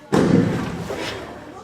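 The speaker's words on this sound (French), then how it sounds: "Non, ce sont des coups de canon." Cannon shots as a sound effect in a stage play of Tom Sawyer: a single loud, booming thud erupts abruptly and rumbles away over a second and a half, with no voices over it.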